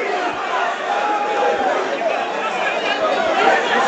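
A boxing crowd at a heavyweight title fight keeps up a dense, continuous roar of shouting and chatter from all around, loud and unbroken throughout.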